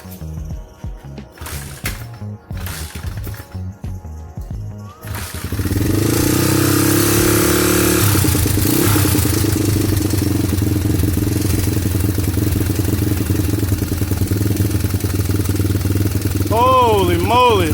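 A motorcycle engine on an Apollo V2.5 with a loose timing chain roller starts after a few clunks and settles into a loud, close idle with a persistent small tick from the flywheel area, while someone talks over it.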